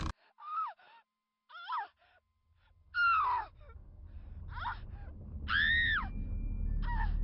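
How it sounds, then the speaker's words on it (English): A woman screams in a horror story, a series of short gasping cries and wails that build to a long, loud scream, with rising rumbling noise underneath in the second half. "She screamed."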